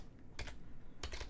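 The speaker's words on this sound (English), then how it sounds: "keep typing and pressing tab again, type the same thing" Two short bursts of rapid computer keyboard typing while setting up the LightDM package on an ArcoLinux system, close and crisp, separated by a quiet pause with no voices.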